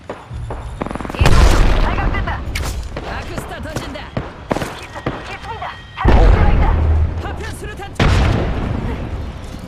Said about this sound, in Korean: 아크스타 투척.